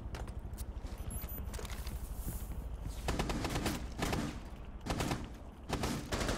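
Rapid bursts of gunfire from the tactical shooter game Rainbow Six Siege, with clustered volleys and single shots rattling loudly throughout, some footstep-like thuds between, and no talking.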